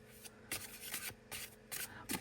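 Linen-finish tarot cards shuffled by hand in repeated bursts of soft riffling and rubbing, close and quiet, with brief pauses between passes and no talking.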